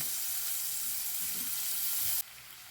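Garlic and onion sauté in a hot pan with squid, giving a steady, bright sizzle that holds evenly, then drops sharply quieter near the end.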